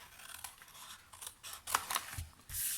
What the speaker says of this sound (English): I'm just cutting up the score lines and cutting my little flaps.